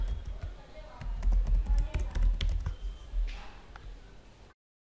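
A computer keyboard clicks as terminal commands are typed on Kali Linux, a run of light, quick key taps close by, with someone talking alongside the keystrokes.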